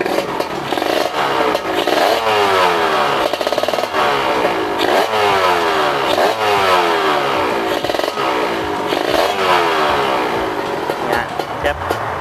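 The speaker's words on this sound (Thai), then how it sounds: "จะฟังเสียงเบิ้ลเครื่องสักนิดนึง" A KR motorcycle engine revs repeatedly, rising in pitch several times then dropping back, loud and close with mechanical clatter underneath.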